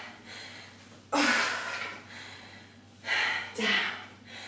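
Deep, forceful breaths during an at-home workout with squats and leg lifts, three strong breathy bursts, close and loud, separated by quieter pauses.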